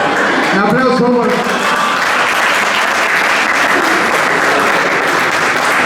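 Crowd applause during a question-and-answer talk on courtship, loud sustained clapping with a voice briefly audible at the start before the clapping carries on steadily.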